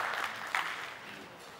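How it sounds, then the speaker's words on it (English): An audience claps in a steady round of applause, moderately loud and continuous with a brief swell partway through, no voices standing out. "let's give a round of applause to him once more"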